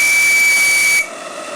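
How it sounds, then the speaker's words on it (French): Model steam boiler burner on a model boat roaring at full power, a loud, steady hiss with a piercing whistle-like tone that cuts off abruptly after about a second, leaving a quieter hiss. "Vous entendez comme le brûleur est beaucoup plus fort?"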